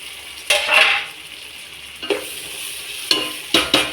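Tomatoes hiss and sizzle in hot oil, with several louder bursts of crackling as pieces are stirred or tossed in the pan.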